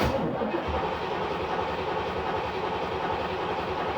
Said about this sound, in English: we're going to crank it over a few times with the fuse out